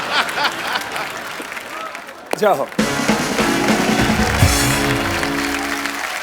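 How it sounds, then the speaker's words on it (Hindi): A studio audience on The Kapil Sharma Show applauds for Swami Ramdev: brief speech and laughter give way to a loud, sustained burst of clapping mixed with crowd noise and musical stings. "स्वामी जी के लिए खड़े होके तालियां बनती हैं।"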